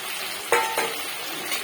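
Fried potatoes and onions stirred in a pan, with two short scraping spatula strokes over a faint background hiss, close and brief.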